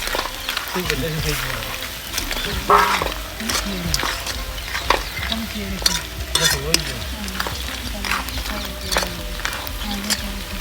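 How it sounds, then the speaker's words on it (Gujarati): Peanut fritters (sing bhajiya) sizzle in hot oil with clattering stirring and scraping in the pan, and people talk over the frying the whole time. "મિત્રો હવે આપણે નાખી દઈશું અંદર સિંગ ભજીયા"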